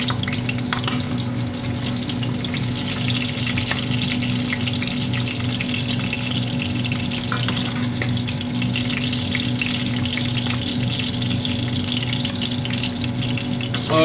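Food fries in Wesson olive oil, giving a steady, close sizzle and crackle that runs without a break for the whole stretch, with no talk over it.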